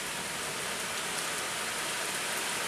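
Steady rain falls in a continuous, even hiss of drops, moderately loud and unbroken, with no other sounds.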